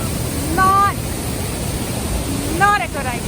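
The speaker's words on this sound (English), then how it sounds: "is the water pouring over from up here" Water pouring over Niagara Falls in freezing cold, heard as a loud, steady rushing roar that fills the whole clip, with two brief high whistling calls rising above it.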